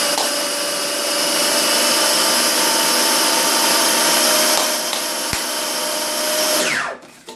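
A blender whirs loudly and steadily as it chops mushrooms, holding a constant high-pitched motor roar for about six seconds before spinning down and cutting off near the end.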